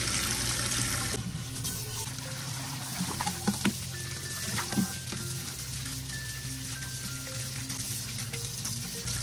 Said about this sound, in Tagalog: Buhos natin siya dito para banlawan pa natin yung ating beef.